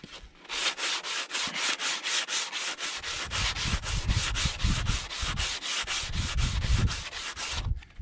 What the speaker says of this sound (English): You can just keep going over that with layers of CA and sanding it in between until you get the perfect smooth finish